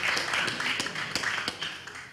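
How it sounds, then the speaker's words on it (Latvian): A small crowd at a fight-night weigh-in applauds the athletes, brief scattered claps with sharp individual taps, close and fairly loud, no talking. "Aplausi sportistēm."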